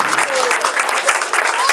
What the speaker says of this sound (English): Big round of applause, Mataji.